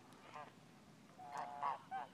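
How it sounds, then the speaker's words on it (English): A few geese honk in short nasal calls, one early and then a cluster of three near the end, moderately distant over quiet surroundings. "That's the sound that geese make."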